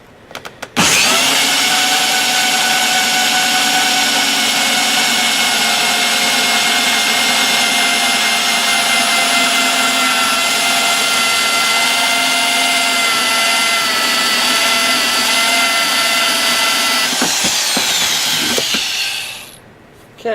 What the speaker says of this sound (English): Now we can get in here and drill a little easier.